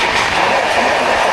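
The 12337 Shantiniketan Express runs fast on the rails from Howrah, giving a loud, close, steady rumble with rhythmic wheel clatter and no voices.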